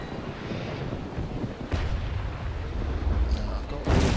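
Naval Action video game ship cannonades fire during a sea battle in snow, a heavy run of rumbling booms and crackling blasts over a constant low roar, with a voice faintly underneath.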